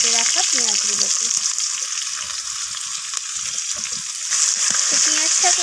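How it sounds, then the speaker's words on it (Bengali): Sliced onions and two bay leaves fry in oil beside potatoes while being stirred, making a steady, bright sizzle close by, and a voice talks over the frying in places. "পেঁয়াজটাকে আমি একটু নাড়াচাড়া করে ভেজে নিচ্ছি ব্রাউন রং ধরা পর্যন্ত"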